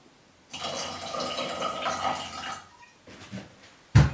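A small amount of water poured into a jar of cream for homemade butter, a close two-second trickling splash that thins to drips, then a brief knock at the end.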